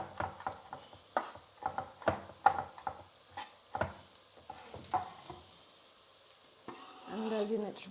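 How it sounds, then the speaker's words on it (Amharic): Onions and garlic fry in a pan while a utensil stirs them in quick, irregular scrapes and taps, close up over a low sizzle. The sizzle swells louder near the end after a brief lull. "በእንደዚህ አይነት መልኩ ጠበስ ጠበስ እናደርጋለን።"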